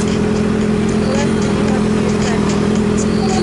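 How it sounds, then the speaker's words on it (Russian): A Honda 650 motorcycle engine runs loud and close on a ride to Mai Khao Beach in Thailand, a steady droning hum with no clear rise in pitch. "650 там Honda мотоцикл."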